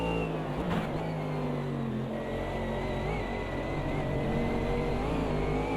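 GT3 race cars in Automobilista 2, a steady loud engine drone with whining gear tones as faster cars come through and pass close by.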